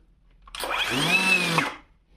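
A Vitals Professional AKZ cordless battery chainsaw spins up with its soft start, a motor whine rising smoothly, holding steady for about a second, then cutting off, close and alone.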